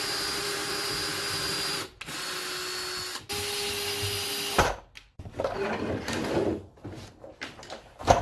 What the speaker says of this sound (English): Now we have about 200 screws to screw this down.